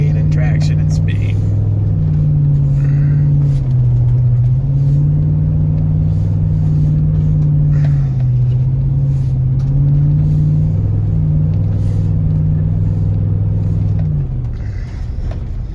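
A 2007 Chevy Suburban Z71 power-slides at speed, its engine a loud, steady low drone that rises and falls in pitch over several seconds before easing off near the end.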